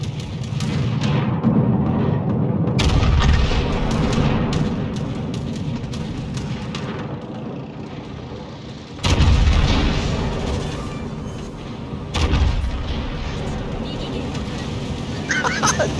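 Battleship main guns fire in a naval combat video game: three heavy, booming salvos land about three to six seconds apart over a constant roar of battle noise, with players talking throughout.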